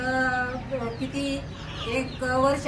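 Several native desi chickens cluck and squawk close by in short, overlapping bursts, with a busy barnyard feel.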